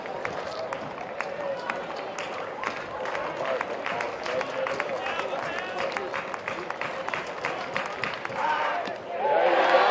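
A college baseball crowd at Florida State versus Louisville murmurs and cheers in a steady, lively wash, with claps and shouts scattered through it under a commentator's voice and a louder swell near the end.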